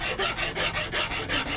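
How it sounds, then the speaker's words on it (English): Hand files rasp against wood while a cigar box guitar is shaped, a steady back-and-forth stroke roughly every fifth of a second, close and even, with no voices. "I'll bring it down to its final shape using some files"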